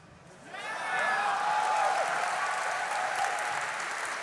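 A live esports audience at the DreamLeague Season 1 grand final breaks into applause for Cloud9, swelling quickly into a sustained, full-room ovation that holds steady and slowly tapers.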